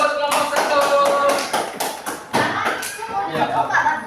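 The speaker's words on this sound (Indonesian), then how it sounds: "Tepuk tangan dulu buat kelompok 1." A classroom group of students claps for group 1 in a series of sharp, rapid hand claps, fairly close and loud, with voices talking over the clapping throughout.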